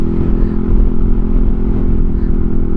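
A Yamaha NMAX TechMax motor scooter rides along with a loud, steady engine drone, heard close up and continuous.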